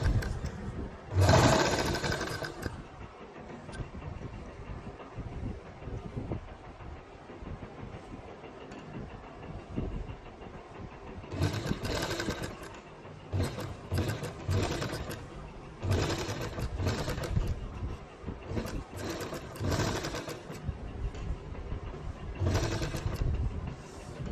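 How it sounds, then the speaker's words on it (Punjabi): A sewing machine stitches lace onto a round neckline, running in bursts of rapid mechanical clatter separated by quieter pauses, with the loudest runs at the start and through the second half. "ਇੱਥੇ ਆਪਾਂ ਸਿਲਾਈ ਲਾਉਣੀ ਬਿਲਕੁਲ ਕਿਨਾਰੇ ਕਿਨਾਰੇ"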